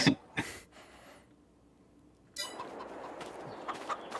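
Chickens clucking in Farming Simulator 22, a few short, sharp calls near the start, then quiet, followed by a steady farmyard clatter of fowl sounds.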